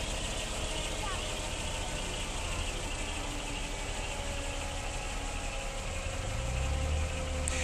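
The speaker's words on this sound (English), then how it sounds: "There goes the engine." A helicopter engine just after landing gives a loud, steady, close roar with a whining tone that holds throughout.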